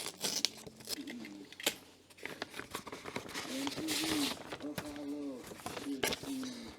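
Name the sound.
tape being pulled off a package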